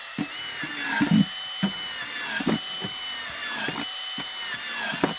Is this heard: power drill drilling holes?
yes